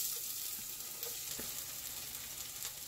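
Whole garam masala, cinnamon, cloves and bay leaves fry in hot oil for mushroom biryani, making a steady, fairly quiet sizzle with a few soft stirring taps, and no talk over it.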